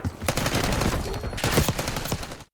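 Dense automatic gunfire and overlapping shots from the video game Call of Duty Black Ops 6, rapid and loud bursts filling the whole stretch with no pauses.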